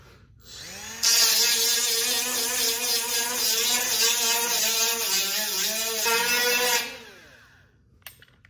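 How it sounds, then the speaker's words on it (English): A small angle grinder grinds metal in a workshop, spinning up with a loud, high whine that holds steady for about six seconds with shifting pitch, then winds down and stops, followed by a faint clunk. "I'm gonna grind some of that up. Actually, I'm gonna go to this grinder for a second."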